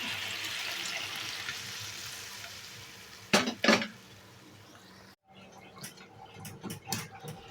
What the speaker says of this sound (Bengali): এবার আমি এর মধ্যে ডালটা দিয়ে দিচ্ছি।